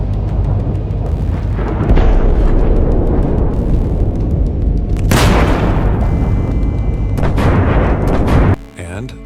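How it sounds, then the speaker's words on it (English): A Russian tank takes a direct hit, bringing a heavy, sustained roaring blast with rumbling and crackling debris, very loud and close, then a sudden drop near the end. "Seconds later, boom, direct hit. The tank's done before it can react."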